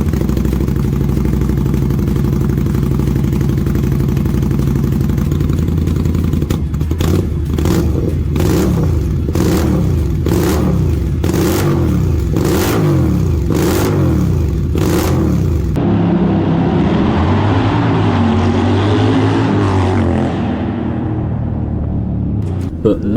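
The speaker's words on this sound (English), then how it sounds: "the most beautiful belt-driven V-twin engine which has an impressive 100 horsepower standard. It also has a very aggressive sound, loud enough to turn heads everywhere you go" An Indian Scout Bobber's belt-driven V-twin rumbles at idle, then bursts into a series of sharp, loud throttle revs, one after another, before settling into a lower, smoother running sound.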